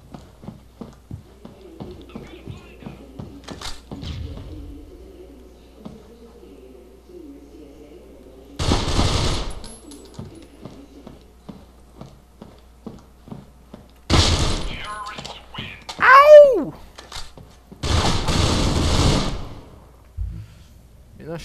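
Gunfire in the mobile shooter Critical Ops during a demolition match: several loud bursts of shots mixed with clicks and game effects, arriving in separate clusters, while a player talks over the action.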